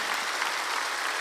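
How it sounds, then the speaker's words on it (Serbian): Audience applause on a TV entertainment show, a continuous, dense clatter of many hands clapping at steady strength, with no talking over it. "Molim jedan aplauz"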